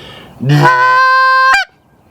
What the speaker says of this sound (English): blowing your call in such a way that the reed inside your goose call snaps